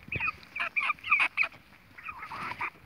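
Mixed-breed naked-neck chickens and roosters, about eight weeks old, give loud honking, squawking calls in a close burst of cries, a short gap, then another run of calls.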